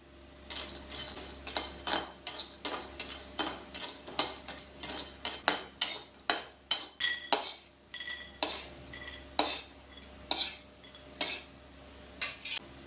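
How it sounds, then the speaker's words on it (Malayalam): A spoon or spatula stirs cashew nuts roasting in a pan for rice-ball sweets, giving a steady run of sharp metallic clinks and scrapes, close and clear, with no voices. "അപ്പം കാഷ്യൂ നട്ട് നമുക്ക് വറുത്തെടുക്കാം."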